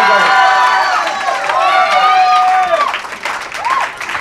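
Audience at the Bowery Poetry Club art battle claps and cheers loudly, with whoops and shouting voices rising over steady applause for about four seconds.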